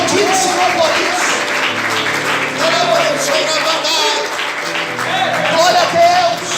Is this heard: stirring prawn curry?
no